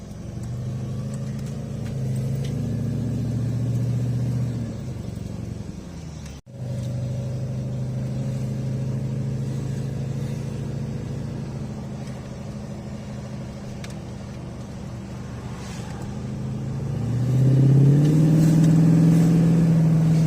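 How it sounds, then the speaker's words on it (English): An LS-swapped Volvo car idling as it warms up, a steady low engine rumble with a brief dropout partway through and a slight rise in pitch near the end. "So, letting the car warm up a bit."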